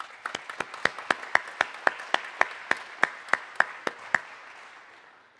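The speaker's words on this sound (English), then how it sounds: "I'd like a big round of applause for Wells Fargo Bank." About fifteen sharp, evenly spaced claps at a Clearinghouse CDFI annual meeting, sounding like a small audience or a single clapper keeping a steady rhythm, close and moderately loud before fading out.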